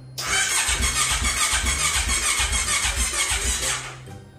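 A Kawasaki Ninja 250 Fi motorcycle, a hard-starting older bike, cranking on its electric starter for about four seconds in a loud, continuous buzzing churn with rhythmic low pulses, then cutting off without catching.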